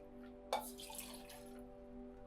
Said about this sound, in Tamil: அதே டம் கப்பில் நீங்கள் வந்து ரெண்டு கப் தண்ணி ஊற்றிக்கோங்க